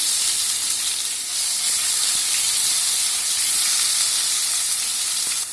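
Mustard seeds and cumin sizzling in hot oil, a loud, steady, close hiss that runs unbroken throughout.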